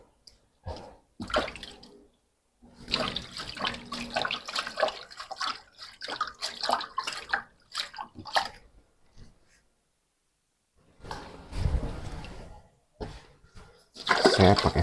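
Water pours from a hose over a small baby hedgehog being rinsed at bath time, coming in intermittent splashing bursts with pauses between them and a louder gush near the end.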